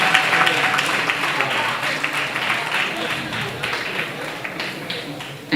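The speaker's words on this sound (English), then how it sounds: "Ladies and gentlemen, please give this handsome gentleman a round of applause" Audience applause at a school debate grand final, a dense, steady wash of clapping from a large crowd lasting several seconds, fairly loud and sustained throughout.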